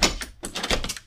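A locked door is tried, producing several quick rattling knocks and thunks in rapid succession, close and fairly loud.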